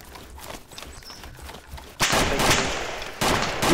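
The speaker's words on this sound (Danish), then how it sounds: "Han skød på mig." Gunfire rings out in the video game DayZ as loud, sharp reports that break into sustained bursts after a quieter stretch of background noise.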